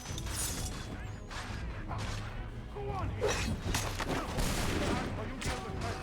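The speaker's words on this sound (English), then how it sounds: "Oh, the firing squad" Gunfire from a firing squad volley in Assassin's Creed 3, a burst of shots and clatter over a busy mix of game sound and music, with a voice talking over part of it.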